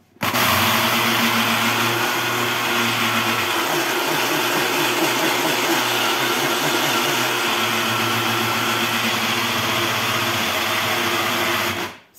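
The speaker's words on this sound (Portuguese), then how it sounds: "vai bater seu sal até ele virar um sal refinado" A kitchen blender grinds coarse salt with citric acid into fine powder, a loud continuous motor roar with gritty rattling that starts abruptly and runs for about twelve seconds before cutting off, with no talking.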